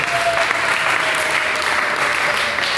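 Church congregation clapping and cheering for Jesus during a service, a dense, steady wash of applause that holds at full strength throughout.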